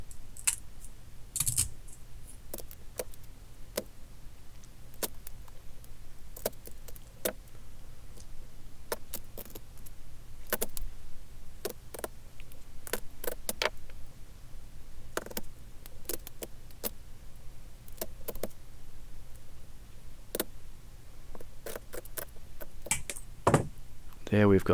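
Tin snips cut carbon fiber chassis rails for a small RC crawler, giving sharp isolated clicks and snaps at irregular intervals over a quiet room hum.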